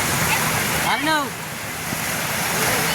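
Sea waves at Ganpatipule beach wash in as a broad steady roar, with wind buffeting the microphone and a brief voice-like whoop in the middle.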